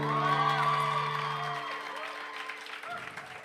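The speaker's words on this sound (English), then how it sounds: "A bigger round of applause" An audience at a product launch event applauds and cheers for Nick Jonas, with steady clapping and whoops. Sustained tones fade out over the first half, then the crowd noise thins toward the end.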